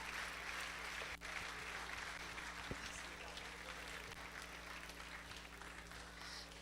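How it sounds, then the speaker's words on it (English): Audience applause at a university convocation lecture in Ibadan, a steady dense wash of clapping across the whole stretch, with a low hum and faint voices underneath. "If you are clapping, clap very well. Clap like somebody that is healthy."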